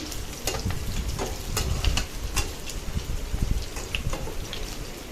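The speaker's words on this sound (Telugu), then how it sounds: "అందులోకి ఒక రెండు రెబ్బలు ఎండుమిర్చి వేసుకోవాలి" Two dried red chilies drop into hot oil in a frying pan while stuffed eggplant curry is being cooked, giving a steady, close crackling sizzle with scattered sharp clicks and scrapes of stirring and no voices throughout.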